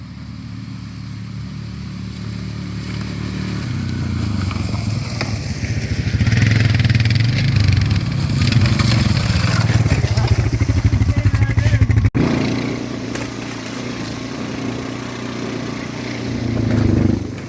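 Four-wheeler ATV engines idling and revving nearby at a remote caving site, a loud continuous rumble rising and falling, with some voices partly audible underneath.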